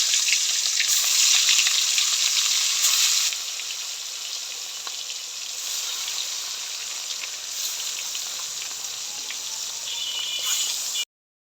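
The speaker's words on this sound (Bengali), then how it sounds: "মাছটা ভাজবো, কড়াইতে তেল দিয়ে দিলাম।" Fish frying in hot oil in a wok, a continuous close crackling sizzle with bright spattering that softens slightly partway through and cuts off at the end, with no voices.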